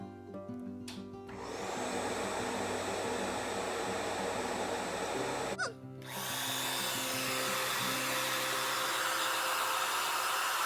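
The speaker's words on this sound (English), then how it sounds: "grab your blow dryer and start blow drying them off" A loud blow dryer motor whirs steadily while drying a guinea pig after a bath, briefly cutting out and restarting at a slightly different pitch, then continuing its constant rushing hum.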